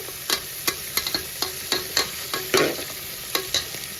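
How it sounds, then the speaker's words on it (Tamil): Tomatoes sautéing with chopped vegetables in a pan for veg pulao, a steady sizzle broken by regular scrapes and knocks of a spoon stirring, close and moderately loud, with no talking. "ஒன்று கட் பண்ணி தக்காளியை போட்டும் சேர்த்து வதக்கிக்கிறேன்."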